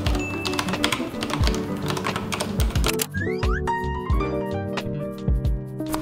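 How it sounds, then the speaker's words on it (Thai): Mechanical keyboard clacking in a steady, fast stream of keystrokes, close and fairly loud, with no voices. "ถ้าตอนไหนเล็บสั้นอะจะมาพิมพ์ที่ mechanical keyboard"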